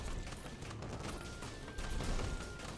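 Ship cannons and turrets firing in the pirate horde-survival video game Sea of Survivors: a dense, continuous barrage of overlapping shots and crashing impacts at steady loudness, with no one speaking.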